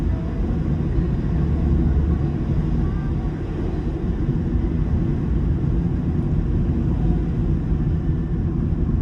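A car driving slowly on an icy, snowy road during a snowstorm in North Carolina, a steady low rumble of engine and tyres filling the cabin, continuous and even with no talk.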